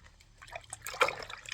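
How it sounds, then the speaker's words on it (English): A paintbrush swishes and is rinsed in a container of water during a decoupage craft session, soft trickling and sloshing that swells briefly to a splashy peak, close and fairly quiet. "And then stick it in the water. Rinse it off really good."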